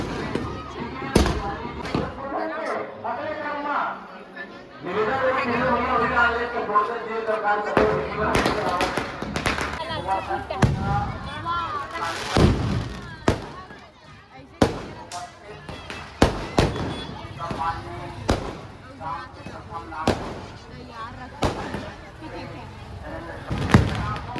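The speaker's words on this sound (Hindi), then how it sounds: "पटाखा फूटा" Firecrackers burst repeatedly and irregularly at a Govardhan Puja celebration in India, loud sharp cracks and thuds, some in quick clusters, with people talking in the background.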